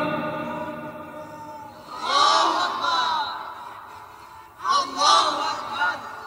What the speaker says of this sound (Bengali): আরেকবার স্লোগান দাও, লিল্লাহি তাকবীর